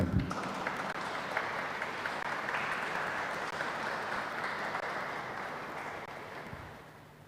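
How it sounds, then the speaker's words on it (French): A Mass congregation claps in a steady, dense wash of applause that fades slightly toward the end, with little talk over it. "Merci et applaudissez pour vous-même."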